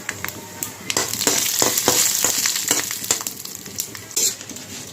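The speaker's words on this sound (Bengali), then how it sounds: "সবগুলো একটু লাল করে ভেজে নেব" Cumin seeds, fenugreek, dried red chilies and bay leaves fry in hot oil, a close, busy sizzle broken by frequent sharp crackles and stirring clatter.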